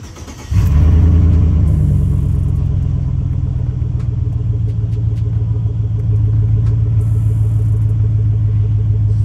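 Chevrolet NBS crew cab truck engine fitted with new MSD 8.5mm spark plug wires starts up and settles into a steady, smooth idle, a close, loud low rumble holding evenly for the rest of the stretch.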